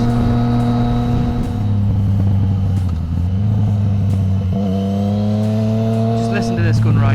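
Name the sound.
motorcycle exhaust while riding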